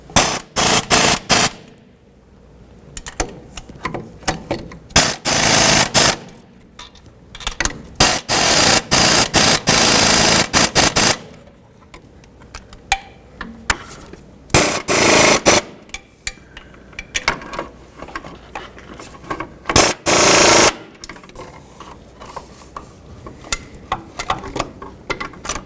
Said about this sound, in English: what I'm going to do is just use my air gun, make sure they're nice and tight